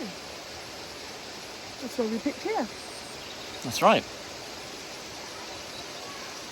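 A waterfall at Lydford Gorge pours as a steady, even hiss of rushing water, with two short bursts of speech rising briefly above it.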